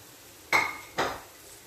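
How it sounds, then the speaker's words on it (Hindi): Bell pepper, cabbage and carrot being mixed in a pan for spring roll filling: two sharp metallic clinks of a utensil against the pan in quick succession, close and clear over near silence. "अच्छी तरह से मिक्स कर लेंगे सभी चीज़ों को"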